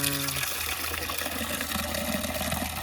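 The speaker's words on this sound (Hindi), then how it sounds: "पानी डालेंगे" Water pours steadily into a pigeons' drinking container, a continuous close splashing trickle running throughout, with a brief tonal hum at the very start.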